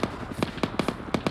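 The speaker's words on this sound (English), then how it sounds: "I see shots coming out." Gunfire in a military survival video game crackles as a rapid series of sharp, evenly spaced shots over a dense background of game noise.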